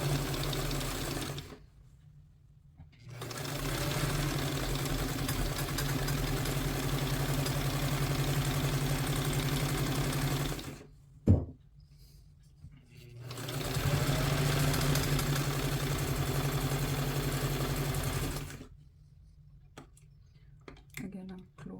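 Sewing machine stitching a two-piece shirt collar in long steady runs, stopping and restarting with a sharp knock in the pause, close and loud while a person talks during the stops.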